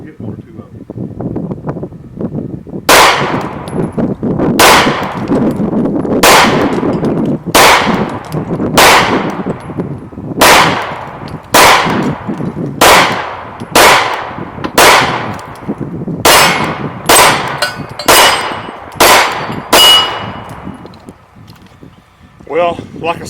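A Sig P226 pistol fired at steel targets on an outdoor range: about fourteen loud, sharp shots in a steady, evenly spaced string, with wind noise rumbling on the microphone throughout.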